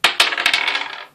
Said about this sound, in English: as you can see, they are rock, paper, scissors dice, which is pretty cool. So you roll this one